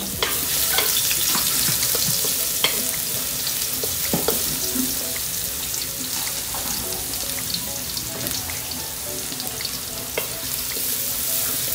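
Garlic sautéing in a pan for pork dinuguan gives a loud, continuous hiss of hot oil, punctuated by occasional knocks and scrapes of a spoon against the pan, with no speech.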